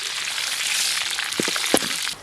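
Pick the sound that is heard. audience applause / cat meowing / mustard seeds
mustard seeds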